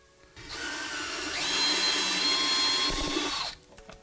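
A standard 10 mm reamer cuts into a GM 6L80/6L90 transmission center support, giving a steady whirring, grinding power-tool drone that rises, holds for about three seconds, then stops with a few light clunks.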